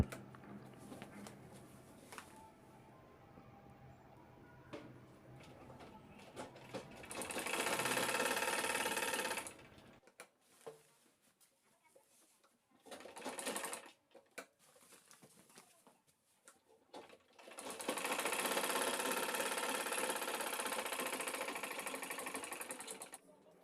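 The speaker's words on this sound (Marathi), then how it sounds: "आता हे दोन्ही बेल्ट आपले शिवून झालेले आहेत" Sewing machine stitching fabric belts for a shopping bag, running in two loud sustained bursts separated by a quieter stretch with small handling noises.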